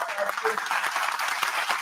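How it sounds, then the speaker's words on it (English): An audience applauds and a voice speaks over the clapping. The applause is a dense, fairly loud patter that continues through the short span. "Can we give a round of applause?"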